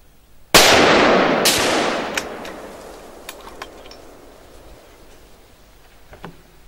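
Rifle shot fired while testing accuracy with a scope, one loud sharp crack with a long decaying echo, then a second report and scattered light ticks and clicks afterward.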